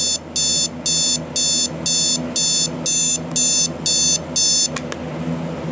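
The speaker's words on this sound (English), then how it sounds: "Turn the alarm on. It'll probably go off in like 2 seconds." A standard alarm clock tone sounds in loud, evenly spaced electronic beep bursts, about ten in a steady rhythm, close and alone with no talking.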